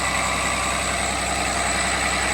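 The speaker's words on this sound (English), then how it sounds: "It's running at a lower RPM." Cummins test engine running steadily at lower RPM, a continuous loud, close idling drone with a dense, even rumble and no variation in pace.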